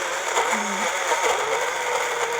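A portable blender running with a banana and avocado smoothie inside, a loud steady whirring hum with a slight pulsing that lasts for the whole short stretch, close by, with no voices.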